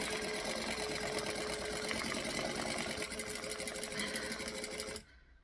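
A sewing machine runs in one continuous fast burst of even, rapid stitching, close and clear. It stops abruptly near the end, leaving near silence.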